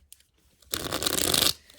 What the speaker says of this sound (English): I'm going to do a sideways one as well, just to give it a good shuffle for the Pisces.